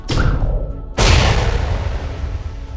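A tank blast effect in a Warhammer 40K battle between Death Guard and Space Marines: two loud booming explosions, the second a heavy crashing burst that rumbles and decays, close and alone without talk.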